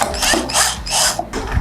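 A BLITZ D53003-1 12-inch steel hacksaw frame has its blade clamp opened, giving several short scraping, ratcheting mechanical bursts up close with brief pauses between them.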